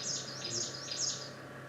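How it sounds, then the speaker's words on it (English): Chinese leaf warbler singing, a short series of about four high, thin repeated phrases, clear and fairly close over faint background hiss. "Yes, the Chinese leaf warbler."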